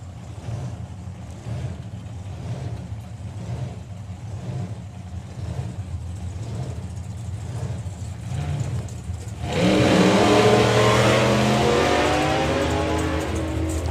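Drag racing cars at the FIA Main Event 2023 drag strip: a steady engine drone rumbles from a distance for about ten seconds, then surges into a louder, broader roar as the cars accelerate down the strip.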